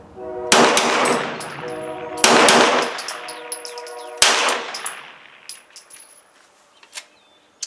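Hi-Point 995 carbine fired in three loud, sharp bursts of rapid double taps about two seconds apart, each crack ringing out with metallic clatter before fading to quieter clinks and shuffling.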